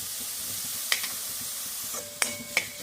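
Vegetables frying in butter for a mushroom soup, a constant sizzle with a few sharp clinks of a utensil against the pan.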